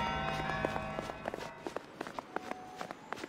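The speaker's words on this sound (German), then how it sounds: "Das hört sich so an, als hätte der irgendwelche Latschen an oder so." Footsteps of a character wearing slippers in a horror murder mystery video game, a run of soft, quick shuffling steps over a sustained musical drone.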